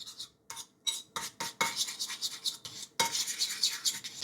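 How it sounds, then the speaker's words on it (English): A small teaspoon scrapes and clinks as it stirs mustard and honey in a bowl, short bursts of scraping that become a steadier stirring rasp, close and fairly quiet. "I'll stir it with a little teaspoon and give it a good mix, all of it."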